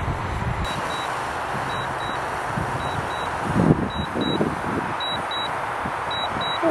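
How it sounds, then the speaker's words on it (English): A camera drone slowly descends to land over snow, sounding a series of short high electronic beeps that grow more frequent, in pairs, over steady wind and outdoor rumble. "That beeping sound is quite annoying."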